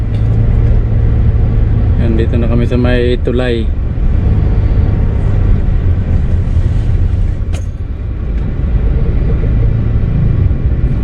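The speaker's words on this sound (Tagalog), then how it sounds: "Grabe talagang traffic mga kabayan" Heavy, slow traffic rumbles steadily on the way into Naga City, a continuous low engine drone close by, with someone talking over it briefly.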